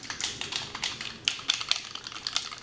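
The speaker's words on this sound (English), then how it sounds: "there are actually balls inside of here that can be shaken up to, mix the product" Small mixing balls rattle and clatter inside a foundation bottle as it is shaken, a quick irregular run of clicks close up.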